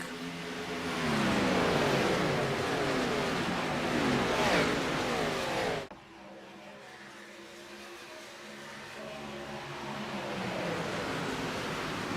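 Several race cars, including a Toyota Supra, roar off together at the green flag of a Talladega stock-car race in a racing video game, a loud, dense engine drone that drops sharply midway and then rebuilds.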